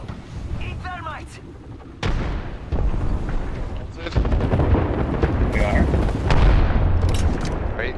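Grenade blast in a first-person shooter video game, a sharp loud boom at about two seconds followed by heavy rumbling gunfire and further booms building toward the end, with players talking over the action.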